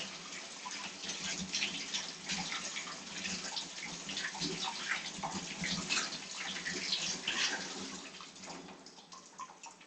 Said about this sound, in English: In between my fingers, those sides of my hands, and run them in the water.